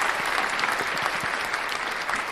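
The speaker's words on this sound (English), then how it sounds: "So a round of applause to you." Steady applause from an audience at a live podcast episode, a dense continuous clapping that holds at an even level throughout without voices.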